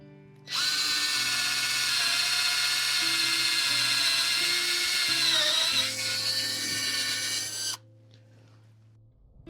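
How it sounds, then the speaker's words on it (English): A Ryobi cordless drill whines at a steady high pitch for several seconds while it bores into wood, the tone dipping slightly under load before it cuts off abruptly. "I drilled 2 holes quite easily with this"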